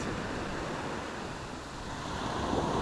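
Ocean surf breaks steadily on a beach where anglers surf fish for snook and bluefish, a continuous close wash of rushing water with wind noise over the microphone and no voices.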